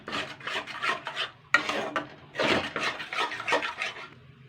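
A spatula scrapes and rubs rice flour around in a pan in repeated rasping strokes, several short bursts with brief pauses between them, close up and without talk.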